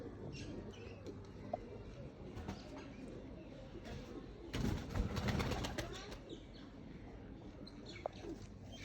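Soft, low cooing of pigeons close by, with faint flutters and a brief burst of wing flapping midway; no talking.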